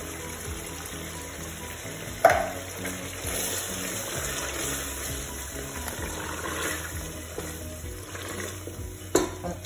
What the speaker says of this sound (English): And here I add the chopped tomatoes and I'm adding all of it.